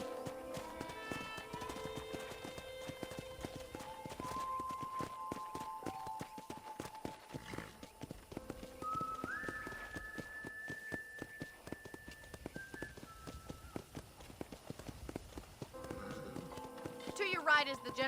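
Horse hooves clip-clopping in the Western game Red Dead Redemption, a steady rhythmic trot running under background music and a voice talking throughout.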